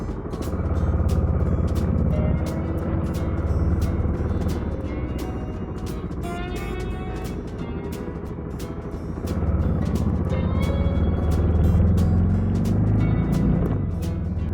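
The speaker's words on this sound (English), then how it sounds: "Get my Dakar bike started up." A Dakar motorcycle engine drones continuously while riding through Pretoria, with a steady rumble that swells and eases, rapid ticking and clicking on top, and wind noise throughout.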